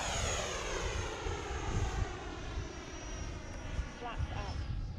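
A repaired remote-control EDF jet flies overhead with a steady, loud whine and rushing ducted-fan roar that swells and fades slightly as it passes, with a few faint voices in the background.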